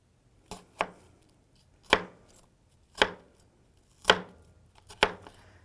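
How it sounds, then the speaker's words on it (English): A knife chops an onion into strips on a cutting board: six sharp, separate thuds in a slow, uneven rhythm, close and clear against near silence, with no voices. "you want to cut it little strips going this way across the onion"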